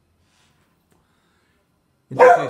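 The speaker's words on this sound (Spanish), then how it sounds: "ese es mi perro" A dog barks close by in a short loud burst near the end, after about two seconds of near silence; a voice is heard briefly.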